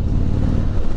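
A deep Harley-Davidson 2020 Street Glide Special motorcycle engine rumbles steadily and loudly, its low throb dominating the brief moment.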